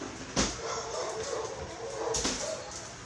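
Dogs yipping, whimpering and giving a few muffled barks from another room, a steady far-off commotion with sharper yelps near the start and again later.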